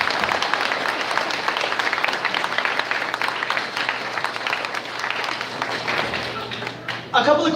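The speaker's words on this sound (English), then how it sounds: "if we could get a clap, a round of applause for those guys" A room full of audience members at a Northwestern IMPACT event breaks into a sustained round of applause for the tech booth crew, dense clapping filling the space steadily for several seconds and rising briefly near the end.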